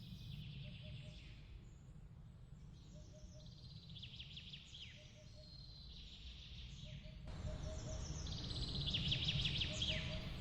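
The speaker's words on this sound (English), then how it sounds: "Cool breezes, bird calls, and the hush of nature wrapped around regal history." Birds calling in the wooded grounds of Peles Castle in Sinaia, Romania: faint chirps and short trills repeat over soft outdoor ambience and grow slightly busier toward the end.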